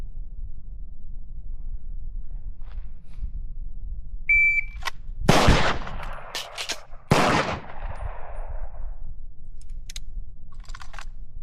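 Pistol shots during a magazine-change reload drill at a shooting range: two sharp, loud reports a couple of seconds apart, with a faint metallic click and beep around them and no talking.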